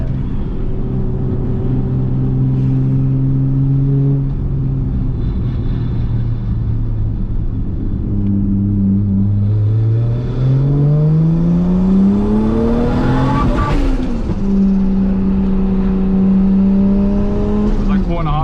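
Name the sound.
rebuilt Toyota Supra GT300 race car driving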